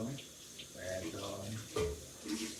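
Tap water runs over the back part of a juicer that catches residue, a short splashing, rinsing wash at a sink, close by with irregular bursts of flow.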